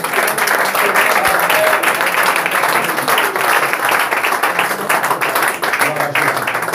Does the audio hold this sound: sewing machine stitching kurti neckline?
no